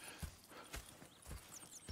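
Horse hooves clip-clopping at a walking pace in Red Dead Redemption 2, several distinct thuds over two seconds, with faint whinny-like tones in the background.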